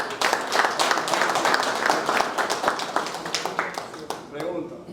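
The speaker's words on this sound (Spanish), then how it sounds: "vamos a darle un aplauso" An audience at a chamber of commerce meeting breaks into applause, dense and fairly loud clapping that fills the room while voices talk over it, thinning out toward the end.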